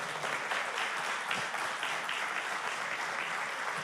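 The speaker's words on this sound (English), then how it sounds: "Can we give them a round of applause" A church congregation applauds youth at a bridging ceremony during a service, a steady, dense wash of many hands clapping together, sustained and fairly loud throughout with no talk over it.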